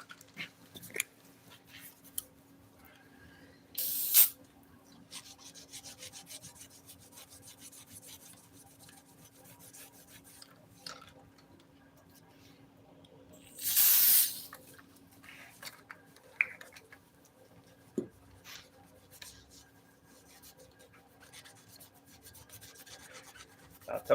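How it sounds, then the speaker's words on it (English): Two short hissing bursts of brake cleaner spray, the second longer, cut through a quiet workshop with scattered scrapes and rubbing noises. "Spray that with that brake cleaner."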